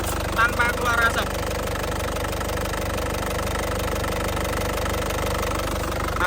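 A hot 2011 Isuzu Panther LS Turbo diesel engine idles with a steady, loud, even knocking rumble throughout, and a voice is briefly heard over it near the start.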